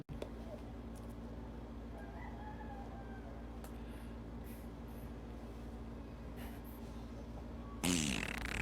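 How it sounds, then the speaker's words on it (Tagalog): A brief, loud, rasping fart bursts out near the end after a long stretch of steady low hum and faint background noise. "Sino yung umutot?"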